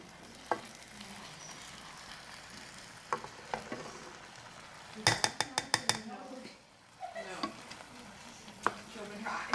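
Oxtail stew simmers in a pot with a quiet, low bubbling background, broken by sharp metallic clinks and a quick run of utensil taps against the pot.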